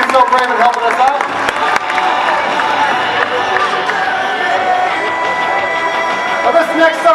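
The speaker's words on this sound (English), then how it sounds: "How about that round of applause for our volunteers?" A fair crowd at a martial arts demo applauds and cheers for volunteers, loud sustained clapping with whoops throughout, and a voice speaking over it.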